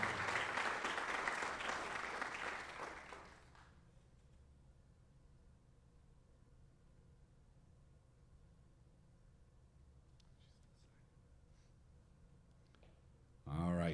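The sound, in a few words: audience applause for athlete signing softball letter of intent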